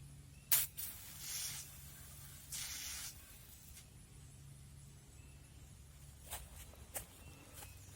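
SABRE Advanced pepper spray is fired in a test, giving three short, sharp hissing bursts close by. Quieter faint ambient noise and a couple of small knocks follow.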